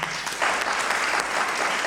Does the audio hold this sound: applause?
yes